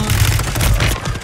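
Call of Duty Warzone gunfire (2023 MW3) comes as a dense, loud burst of rapid shots with heavy low booms and no pauses.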